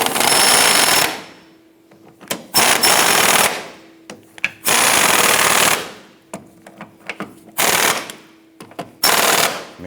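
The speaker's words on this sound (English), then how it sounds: "Let's go ahead and tighten down our skid plate." A power tool, likely an impact wrench, tightens the skid plate bolts on a 1997-2006 Jeep Wrangler, sounding in five loud, close bursts of rattling hammering separated by short pauses, with no talk.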